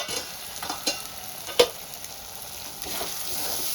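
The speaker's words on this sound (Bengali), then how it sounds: "সবগুলো রেগুলার মশলাগুলো আমি ভালো করে কষিয়ে নেব।" Spices with coriander powder frying in oil for Kashmiri chicken while being stirred, a steady sizzle broken by several distinct scrapes of a spoon against the pan, close and fairly loud, no talking.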